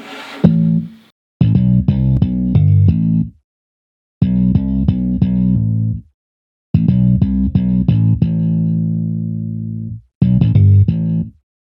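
Punchy slapped bass notes in short rhythmic phrases, separated by brief silences, with one long sustained note; loud and close, no talking.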